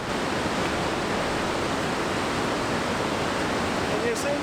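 A loud rushing river in the Caney Fork River Gorge at Rock Island State Park roars as a dense, steady, unbroken wash of white-water noise, close and constant throughout.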